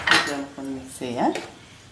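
A spoon stirs fresh cream into chicken in a metal pot, giving a few close scraping clinks of utensil against the pot.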